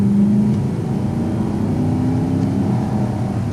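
A Lexus LS430 engine hums smoothly and steadily at a low pitch, with a faint rise in tone near the start and no other sounds.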